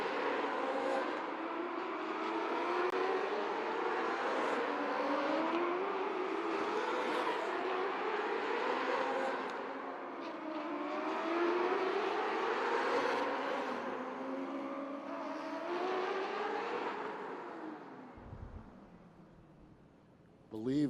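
Race cars speed around the track at Atlantic City, their engines droning and rising and falling in pitch as they pass, a continuous distant roar under a commentator's talk.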